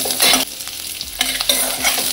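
Shallots and green chillies sautéing in hot oil with dried red chillies for soya chunks chukka, a loud close sizzle broken by repeated scraping strokes of a spatula stirring the pan.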